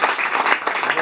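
The audience at a Rotary club collar handover evening in Casablanca applauds, a brief burst of dense, steady clapping from a crowd close by.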